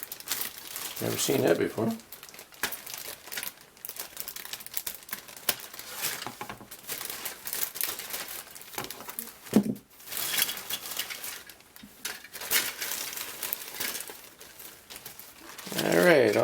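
A plastic bag of parts from a Jo-Han AMC Rambler 1/25 scale model car kit is opened, with crinkling and rustling in bursts that are loudest at the start and end, while someone talks nearby.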